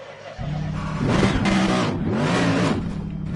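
A race car engine in the FIA Motorsports Games racing game fires up after a short quiet moment and then revs loudly in two rising and falling surges, close and alone.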